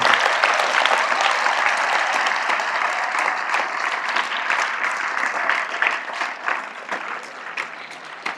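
Sustained applause from a large audience at a Telugu commemorative celebration, hands clapping in thanks to teachers, loud and dense at first, then thinning toward the end.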